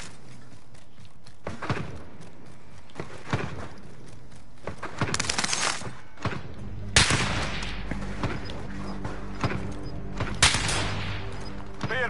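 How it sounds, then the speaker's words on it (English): Cluster airstrike explosions rumble in a first-person shooter game, a run of heavy booms and scattered blasts with sharp bursts around the middle, mixed with faint gunfire and footsteps. "Allied cluster strike inbound."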